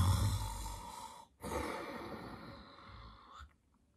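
A voice imitates snuffling and snoring in sleep, producing two long, breathy nasal snorts separated by a brief pause, heard close and alone.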